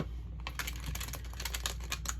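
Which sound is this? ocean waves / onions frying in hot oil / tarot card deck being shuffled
tarot card deck being shuffled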